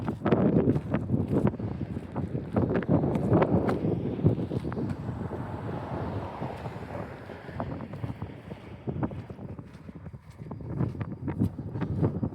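A tent flaps and rattles overhead in strong wind, with steady gusty buffeting over the microphone throughout and no talking.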